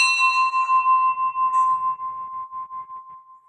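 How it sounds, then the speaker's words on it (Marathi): A temple bell rings out, struck twice, its clear metallic tone humming and slowly fading away. "पहिले घंटी वाजवते"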